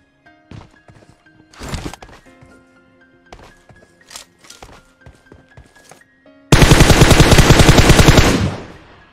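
A gun is test-fired in a video game, starting with scattered light clicks and thuds before a loud, sustained rapid-fire burst of automatic gunfire that lasts about two seconds and then tails off.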